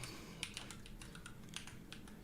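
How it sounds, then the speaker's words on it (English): Someone types on a computer keyboard with one hand: irregular, sparse key clicks close to the microphone, tapping out slowly over a low background hum. "I am typing with one hand, so it's pretty bad"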